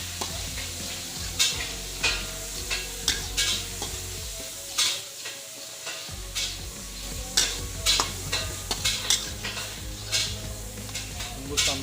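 Chili being stirred and fried in a pan with a pinch of salt, a steady sizzle broken by repeated scraping strokes of a utensil against the pan, close and clear with a brief lull midway.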